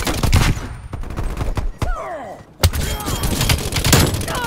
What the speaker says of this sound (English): Flashbang coming in.